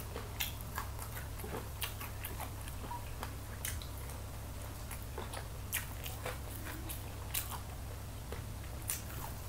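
Crispy baked chicken wings are chewed close to the mic in a mukbang eating session, with repeated sharp crunchy bites and wet chewing over a steady low hum, no talking.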